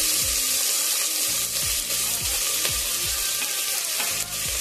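Cumin and mustard seeds sizzle in hot ghee with a dense, steady, close crackle, over a low, regular repeating thump in the background, and no speech.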